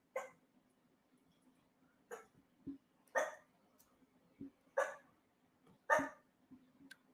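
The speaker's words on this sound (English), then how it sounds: "That right there is a little chihuahua who's barking up a storm." A chihuahua barks in sharp, high yaps, about six scattered barks over a low steady hum, fairly close.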